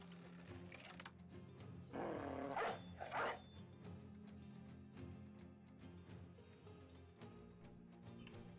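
A war dog in Battle Brothers barking repeatedly, a few loud close barks around the middle over a quiet in-game ambience.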